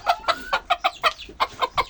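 Chickens, including white hens and a blue rooster, cluck in a quick run of about a dozen short, close calls in a steady rhythm.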